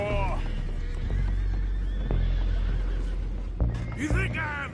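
Horses neigh and whinny in Red Dead Redemption 2, several high whinnies near the start and a louder burst toward the end, over steady low game ambience with occasional hoof-like thumps.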